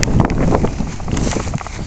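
Outdoor wind buffets the microphone in a loud, continuous low rumble and roar that swells and dips for the whole stretch.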